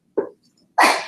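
Two sneezes in quick succession, a short sharp burst followed by a louder, breathier explosive one, close and clear with silence around them.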